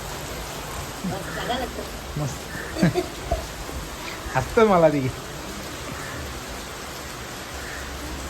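Steady rain hisses throughout as people talk briefly in the foreground.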